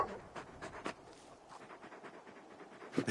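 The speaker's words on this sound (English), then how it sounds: "You're just a big puppy, aren't you? A very big puppy." In Final Fantasy XVI, a big dog pants in quick, soft breathy puffs, close and fairly quiet, continuing steadily without any speech over it.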